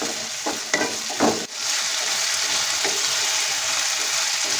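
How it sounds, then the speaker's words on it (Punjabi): Potatoes fry on a high flame in a steady, dense sizzle, with a few spoon scrapes and clatters of stirring near the start, close and continuous with no talk. "ਇਹਨੂੰ ਆਪਾਂ ਚੰਗੀ ਤਰ੍ਹਾਂ ਮਿਕਸ ਕਰਕੇ ਤੇਜ਼ ਫਲੇਮ ਤੇ 5 ਮਿੰਟ ਵਾਸਤੇ ਫਰਾਈ ਕਰ ਲਵਾਂਗੇ"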